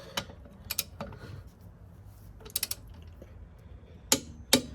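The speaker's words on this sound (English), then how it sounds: "I love these clicking torque wrenches." A clicking torque wrench tightens the wheel nuts on a Ford Focus, giving a few sharp, close metallic clicks in small clusters separated by quiet pauses.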